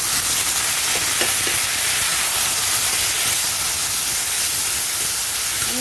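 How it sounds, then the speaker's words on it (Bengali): Small cut potato pieces fry lightly in hot oil with black cumin, dried red chili and bay leaf, making a loud, continuous close-up hiss and sizzle that holds steady throughout. "আলুটা একটু হালকা ভাজা হোক"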